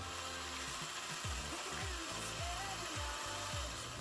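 A power drill grinding a small pilot hole through metal for a jetski trailer bracket, its motor whining and pitch dipping repeatedly as the bit bites, loud and continuous.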